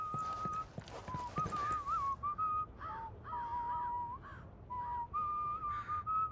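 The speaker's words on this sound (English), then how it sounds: "Nice whistling. Like a kettle." A man whistles a wavering tune in short, breathy phrases in Ghost Recon Wildlands, close by, with faint rustling and outdoor ambience behind him.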